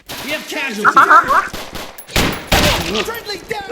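Gunfire sounds during a hostage-clearing mission in the video game Special Force Simulator, with a couple of loud sharp shots cutting through game audio while a player talks over it.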